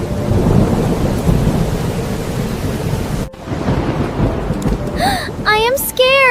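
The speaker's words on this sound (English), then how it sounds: "Heavy rain may cause dangerous flooding today. This storm looks serious." Heavy rain roars through a thunderstorm with loud rumbling thunder, then the downpour briefly cuts out and returns, joined near the end by high tonal chirps.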